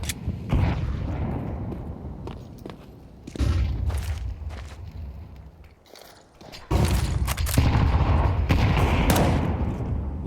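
Rapid M4 rifle bursts and booming grenade blasts from Counter-Strike on the Anubis map in an esports match, loud clustered gunfire with heavy explosive thuds, quieter gaps between volleys, then a dense sustained barrage.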